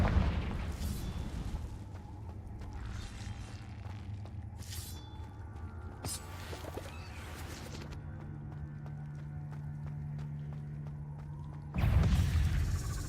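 Confringo fire spells burst in Hogwarts Legacy: a few muffled, rumbling blasts go off amid low game noise, with a louder surge near the end.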